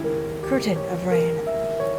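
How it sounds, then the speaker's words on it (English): Heavy rain falls in the video game Sacrificial Lamb as a steady, even hiss that blankets the scene, with sustained musical tones layered over it. "my vision was enveloped by a thick curtain of rain"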